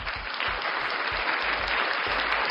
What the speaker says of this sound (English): so let's give you guys an applause for that one.